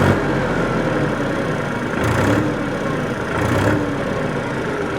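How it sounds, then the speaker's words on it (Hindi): Massey Ferguson 254 DynaSmart 50 hp tractor with a Simpson engine idling at about 700 rpm, a steady close low rumble with slight swells, no talk. "आवाज़ सुनवाता हूँ ट्रैक्टर की किस तरीके की है।"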